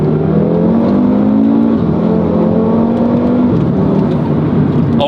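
An Audi RS3 with a five-cylinder engine pulls hard and revs up, heard from inside the car. The loud, steady engine note climbs in pitch through two gear changes, with no talking.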